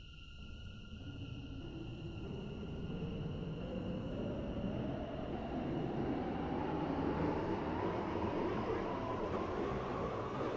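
A train in the Roblox game Stepford County Railway, a seven-coach service at the airport, rumbles and hums steadily with a rising whine as it accelerates, continuous and fairly quiet, with a faint high tone fading early and no voices.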